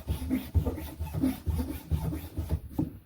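A gouge carving channels in a handmade Louisiana cane duck call, rhythmic close scraping strokes about twice a second, dry and woody, with no voices.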